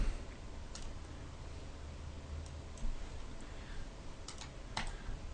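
Computer keyboard typing while using a shortcut and naming a new composition, with scattered light key clicks and taps, fairly close and quiet over faint room noise.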